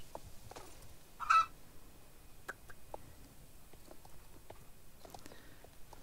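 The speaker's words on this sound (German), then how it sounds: "Seht ihr so ein leises Gackern? Und dann ist hier ein Huhn in der Nähe" Soft, faint clucking from a chicken in a browser game during a birthday event, a short cluck burst near the start followed by sparse quiet clicks and ambient game sounds, with no talking.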